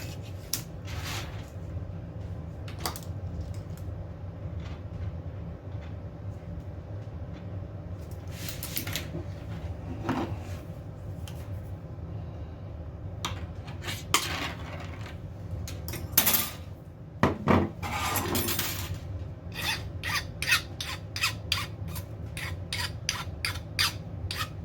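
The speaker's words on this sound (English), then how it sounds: "I'll file down both ends until they're smooth." A 3/32 solid brass rod has its cut ends filed smooth, with intermittent short rasping strokes and scattered handling clatter spread over a quiet, steady background.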